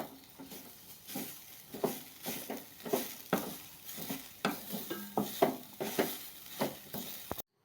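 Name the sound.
stir-frying papaya thoran with grated coconut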